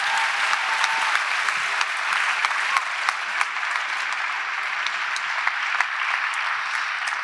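A church audience at a morning gathering applauds Dr. Howard with a steady, dense wash of clapping, loud and close, a few sharper individual claps popping out over the continuous roar for the whole stretch.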